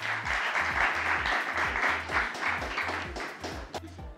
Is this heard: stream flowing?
no